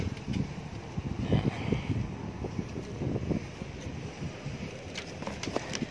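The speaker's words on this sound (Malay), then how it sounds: "angin." Gusty wind rushes and buffets the microphone throughout a mango harvest outdoors, with steady rough noise and scattered knocks and rustles mixed in.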